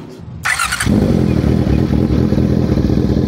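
A 2024 Honda CB650R fitted with an Orion exhaust fires up after a brief clatter and settles into a loud, deep, steady idle close by.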